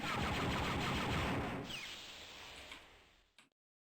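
Rapid E-11 blaster fire from the Star Wars Dark Forces video game, a dense loud volley of repeated shots that tapers off over a few seconds and ends with one last short burst.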